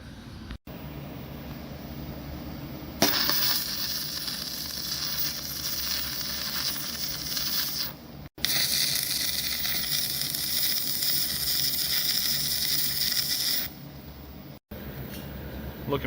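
An angle grinder cleans up steel parts for a tree boom build, running on a 110-volt outlet with a steady, loud hiss in long bursts that stop and restart a few times.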